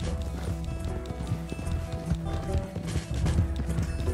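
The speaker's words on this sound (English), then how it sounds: "I thought my horse was like the fastest horse in the game" A horse gallops in Red Dead Redemption 2, its steady rapid hoofbeats running continuously under a constant layer of game ambience and music.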